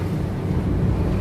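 Sea waves and wind at the Gumaka sea make a steady, full roar of surf and gusting air close to the microphone, with no talking.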